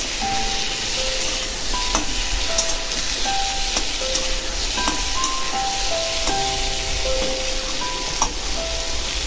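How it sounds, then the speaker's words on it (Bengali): Pointed gourd frying in oil in a pan, a steady dense sizzle running throughout with occasional spatula scrapes and clicks, close and fairly loud with no talking. "এই যে পটলটা দিয়ে পটলটাকে ভালো করে ভেজে নেবো।"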